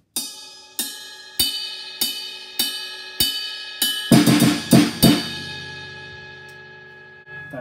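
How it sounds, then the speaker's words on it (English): Drum fill for a song: seven evenly spaced, ringing strokes on the bell of a ride cymbal, then a quick burst of snare hits mixed with bell strikes, played alone and close. "he has this little fill which he plays on the bell of the ride and a little bit of snare drum"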